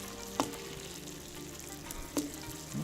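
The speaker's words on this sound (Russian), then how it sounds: "Вот она, водичка кипит в кувшине." Water bubbling and hissing as it boils in a jug with chaga, a steady close simmering texture with a couple of faint clinks, heard inside a winter tent by a wood stove.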